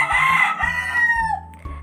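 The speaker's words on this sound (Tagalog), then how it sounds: "nakakainis talaga itong manok dito sa amin" A rooster crows loudly and close by, one long drawn-out call that rises and then trails off.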